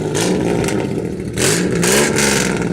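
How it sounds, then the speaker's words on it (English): An SN95 Ford Mustang race car engine with a leaking water pump revs hard twice, loud and close, the pitch climbing and falling with each throttle blip over a rumbling idle. "give it a good couple revs"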